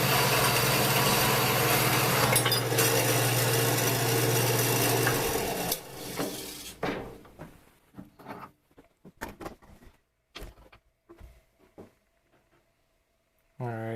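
A bandsaw cutting a steel pipe tee for a turbo log manifold makes a loud, steady grinding whine for several seconds and then stops. Scattered clanks and handling noises follow, and someone talks.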